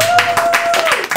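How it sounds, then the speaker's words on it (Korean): A small studio group claps briefly during a light news-style show. About six quick, close claps sound over a steady background tone. "박수 한번 주세요."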